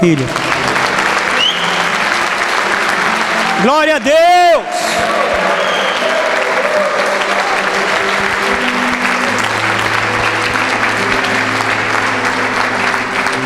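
Church congregation applauding throughout, a steady wash of clapping with a voice speaking over it and a brief sung or called phrase partway through.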